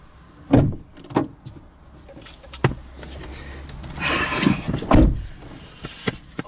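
Keys jangle and a car door opens and shuts as someone gets into an Abarth 595 Trofeo, followed by rustling and seat movement inside the car, with a few sharp clicks and thumps close by.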